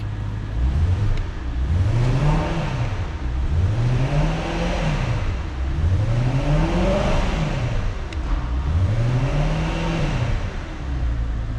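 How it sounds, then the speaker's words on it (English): A cold BMW E92 M3 engine is revved gently four times in a row, each rev rising and falling smoothly with a crisp, precise note, close and loud with no talk over it. "So let's give the car a little rev."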